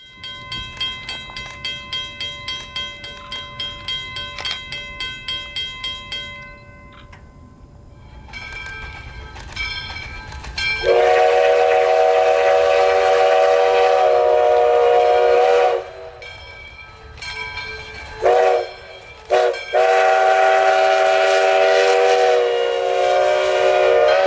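A U.S. Sugar steam locomotive hauling a Christmas train sounds a bell in rapid repeated strokes, then blows long, loud steam whistle blasts, some short, some sustained, over the rumble of the moving train.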